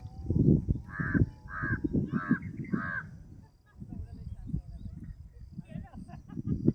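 Crow perched in a coconut tree cawing four times in quick succession, loud harsh calls over a person talking nearby, followed by a few fainter caws later as the talk continues.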